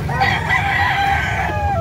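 A white-legged gamecock in Cebu City crows once close by, a loud drawn-out call with a rising then falling tone, over faint background bustle.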